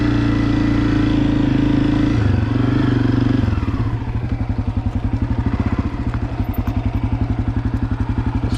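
A Honda CRF250F fuel-injected dirt bike runs loud and close on a fall trail ride, its engine droning steadily and then settling into a rapid, pulsing low thump as it chugs along at lower revs.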